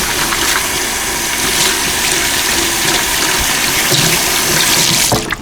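Kitchen tap running full while hands are washed with soap and water, a continuous bright splashing hiss close up and alone, ending with a brief clatter.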